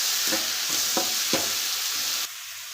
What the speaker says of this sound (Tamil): தக்காளி சேர்த்துக்கலாம் தக்காளியும் வதக்கி வச்சுக்கலாம்